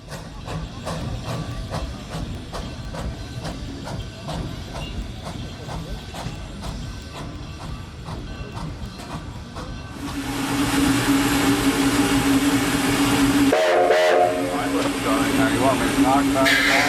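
A steam train engine originally built to burn wood runs at the Midwest Old Threshers Reunion, with rhythmic chuffing and mechanical clatter, then a loud sustained hiss of venting steam, with talk mixed in.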